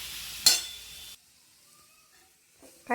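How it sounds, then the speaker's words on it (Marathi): Cauliflower is tipped into frying masala with a sharp, short burst of sizzling and hissing up close, then near quiet with a few faint clinks before another brief hiss at the end. "फ्लावर छान असं मिक्स करून घ्यायचं मसाल्यामध्ये"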